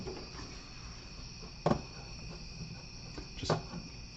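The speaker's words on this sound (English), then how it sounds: "why do y'all enjoy the crickets for a minute?" Crickets chirp steadily at close range in a woodshop setting, a continuous high trill running throughout, broken twice by brief louder knocks or thuds.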